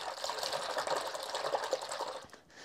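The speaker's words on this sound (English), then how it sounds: "add some washing up liquid." Water runs and splashes steadily into a dye bath as washing-up liquid is added to wet, scoured wool fleece, a continuous close gush that fades near the end.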